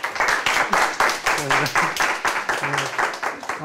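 An audience gives quick, rhythmic applause to welcome a professor at a university open lecture. The claps are sharp and close, and a voice speaks over them.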